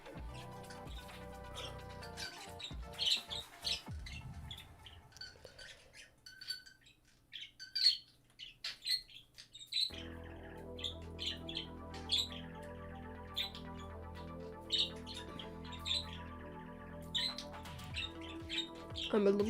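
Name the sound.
pet bird chirping and squawking near the microphone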